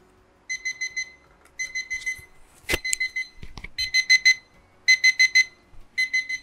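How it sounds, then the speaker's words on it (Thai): A DS-3810L LED clock's alarm sounds clearly in short, rapid beep bursts, repeated in groups across the clip, with a few clicks between them and no talk. "อันนี้คือเสียงปลุกของเขานะครับเรากดปุ่มไหนก็ได้เพื่อหยุด"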